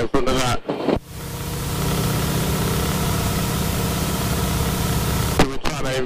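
A Harvard aircraft engine drones steadily and loudly during a low-level landing approach at an airfield, a continuous low rumble with a voice briefly speaking at the start and end.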